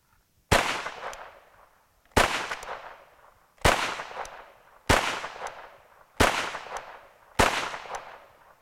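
Six single gunshots from an ATI GSG MP40 submachine gun, each a loud sharp crack with a ringing outdoor decay, spaced about a second and a half apart.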